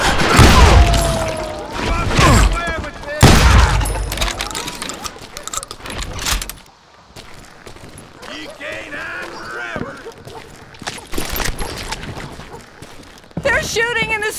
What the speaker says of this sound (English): Shooting in the street!